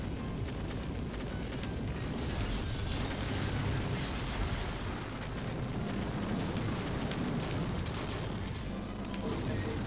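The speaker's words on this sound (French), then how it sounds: "Alors oui, ça y va sur les explosions" Dense, continuous explosions and gunfire from the shoot 'em up arcade game Giga Wing, a loud, unbroken rumbling barrage with no pauses.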